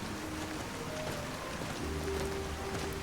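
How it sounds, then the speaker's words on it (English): Steady rain falling in the Skyrim video game, a continuous broadband hiss of drops on surfaces with faint tonal game sounds underneath, evenly loud throughout with no talking. "Rain. Skyrim weather at its finest."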